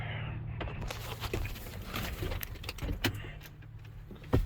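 Keys jangle and clink in short bursts near a Ford F-350 pickup, the metallic rattles repeating irregularly over a low hum, with a louder clack at the end.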